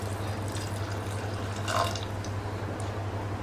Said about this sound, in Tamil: இப்போ பால் விட்டுக்கலாம்.